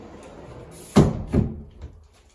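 A newly installed pocket door slides along its track in a room with fresh drywall, making two close, distinct thuds followed by a faint rattle, with no one talking.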